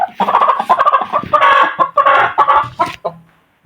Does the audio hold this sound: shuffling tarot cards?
no